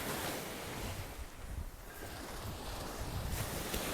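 Atlantic Ocean surf breaking on Playa Alicia beach in Sosua on the north shore of the Dominican Republic, a steady soft wash of waves with wind noise and no voices.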